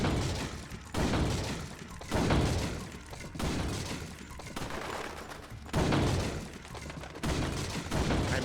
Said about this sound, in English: Equip the handgun. Just aim for headshots.